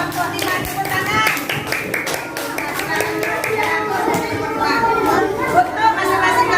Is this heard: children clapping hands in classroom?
yes